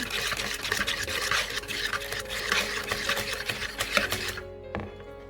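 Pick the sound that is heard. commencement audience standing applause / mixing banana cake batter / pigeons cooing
mixing banana cake batter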